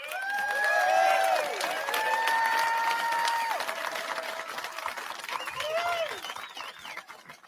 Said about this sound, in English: If everybody here who respects the treaties and respects Aboriginal rights could please clap